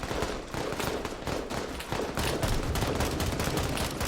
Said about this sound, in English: if you want to in this mod, you can absolutely go ahead and take control of the gun yourself.